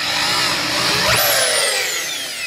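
A screw gun driving drywall screws into a sheet makes a loud close whirring burst. Its motor pitch sweeps sharply upward and then winds down.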